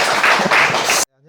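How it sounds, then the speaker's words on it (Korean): An audience at a conference session on AI and collaboration applauds to welcome presenters, a dense burst of clapping for about a second that cuts off abruptly into quiet. "큰 박수로 맞이해주세요."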